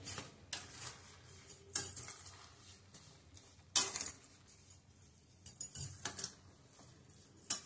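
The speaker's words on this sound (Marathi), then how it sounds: "आपण आता यात 1 वाटी साखर टाकून घेऊया। साखर चांगली मिक्स करून घ्यायची आहे।" A spoon clinks and scrapes in a pan as sugar is stirred into carrot halwa cooking in milk, irregular metallic knocks in short bursts, close with no voices.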